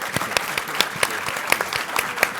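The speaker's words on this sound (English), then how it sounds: "Please join me in a warm round of applause." Warm audience applause at the end of a session at a government digital conference, with distinct individual claps standing out over a softer wash of clapping, moderately quiet and sustained.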